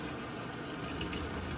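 A washing machine on speed wash fills with water: a dense, steady rushing hiss of flowing water, continuous and fairly loud throughout.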